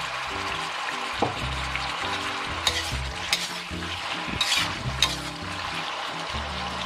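Shiitake mushrooms stir-fried in a wok with dark soy sauce, a steady loud sizzle under repeated scraping strokes of a spatula and a few sharp metallic clanks against the pan.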